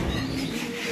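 Foreign racing pigeons in a loft coo in a low, steady murmur that runs unbroken for a moment, close and fairly quiet.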